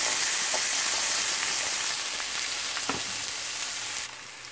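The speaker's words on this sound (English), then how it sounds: "let them sizzle for a few seconds before we go to the next step" Steady loud sizzling of bell peppers frying in olive oil, a continuous bright hiss with occasional small crackles and a faint clink.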